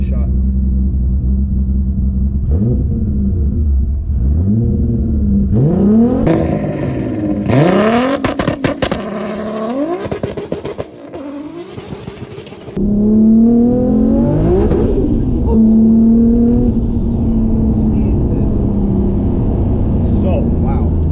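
A 1000hp Nissan GT-R with a new aluminum driveshaft revs and launches, its engine note climbing sharply, dropping at the shift from first to second gear, then rising again, loud and close, with a person talking at times.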